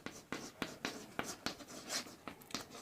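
Pen writing out a Class 12 maths determinant solution, a steady run of short scratchy strokes and taps, close and fairly quiet, with no voice over it.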